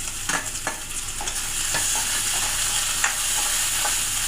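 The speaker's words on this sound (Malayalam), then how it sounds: "ഇഞ്ചിയും വെളുത്തുള്ളിയും കൂടെ ചതച്ചത് ഇട്ട് കൊടുക്കാം" Crushed ginger and garlic sizzle steadily in hot oil in a pan, with a loud continuous hiss broken by several sharp stirring scrapes and clicks near the start, close up and without any voices.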